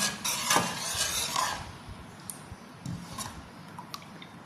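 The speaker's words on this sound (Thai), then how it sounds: "คนพริกแกงให้ละลายก่อนค่ะ" Curry paste being stirred in a pot for a mixed mushroom curry, with a few brisk scraping, swishing strokes up close followed by quieter, scattered clinks and soft stirring sounds.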